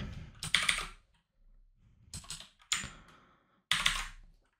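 Bursts of typing on a computer keyboard, clusters of quick clacking keystrokes separated by short pauses, close and fairly loud, with no voices.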